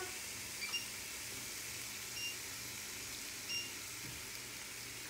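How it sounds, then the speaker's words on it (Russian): Meat frying in a pan in a home kitchen gives a steady, faint sizzling hiss throughout, with a few small clicks and no talk. "Сейчас пожарим мяско."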